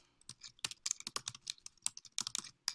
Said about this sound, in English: So I can start typing